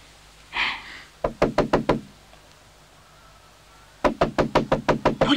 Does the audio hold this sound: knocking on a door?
yes